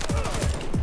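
Rapid automatic gunfire from the video game Battlefield 2042 rattles loudly in a dense, close burst of repeated shots.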